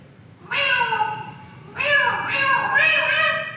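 A human voice imitates cats meowing and fighting, with drawn-out, wavering yowls in three loud bursts and short pauses between them.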